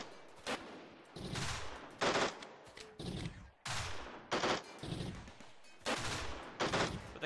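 Rapid bursts of turret gunfire in Rimworld during a crystal raid, repeated staccato volleys crackling close and loud for several seconds with short pauses between them.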